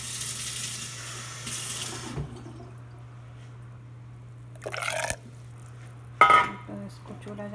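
Water poured from a tap into a pan for strawberry sauce, heard as two short splashing bursts over a steady low kitchen hum and faint background noise.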